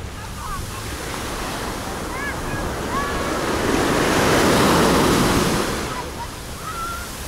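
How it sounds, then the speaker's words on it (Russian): Steady roar of Mediterranean surf at a beach in Alanya, Turkey, with waves breaking close by, swelling louder in the middle, with wind buffeting the microphone and faint gull-like cries. "а сейчас вот волны такие"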